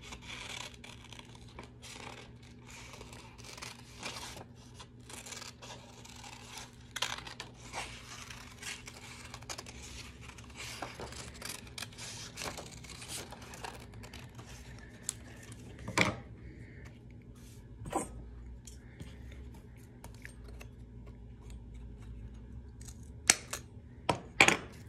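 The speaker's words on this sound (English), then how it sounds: "You can cut out a piece of star." Scissors snipping paper to cut out a star shape for a moon craft, a series of quiet, close crisp cuts and rustles with short pauses, the snips growing sharper toward the end.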